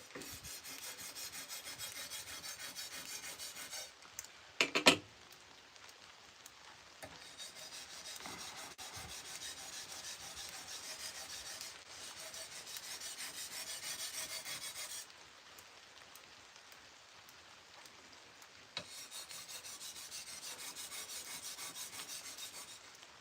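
A sword edge being worked on a 1x30 belt sander to remove the burr: a faint, steady grinding rasp in long passes broken by short pauses and one sharp knock, with no talk.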